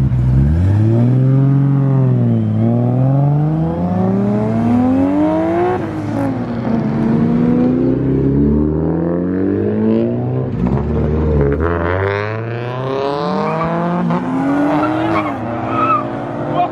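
A Nissan Titan V8 pickup revs hard and loud at an illegal underground car meet, the engine note rising and falling in long swooping sweeps with tire squeal layered in, while voices shout nearby.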